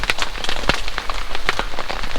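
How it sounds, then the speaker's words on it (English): Pouring rain drumming steadily on surfaces at a campsite, loud and close, with scattered sharper drops and taps breaking through the dense hiss. "8:35 a.m. pouring rain."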